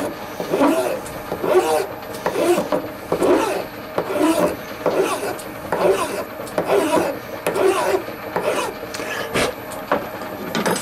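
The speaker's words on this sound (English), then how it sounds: "I'm going to chop this off with a hacksaw and give him a bit of a file up." A hacksaw cuts through a metal cylinder casting with steady, rhythmic back-and-forth rasping strokes, close and loud, about a dozen strokes in an even cadence.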